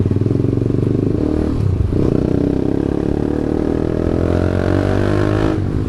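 A TVS Apache RR 310 motorcycle fitted with a full-system Akrapovic exhaust being ridden, its loud, close, raspy engine droning and revving steadily throughout.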